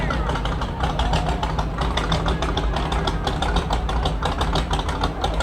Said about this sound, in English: Sounds like he's got a John Deere motor in there.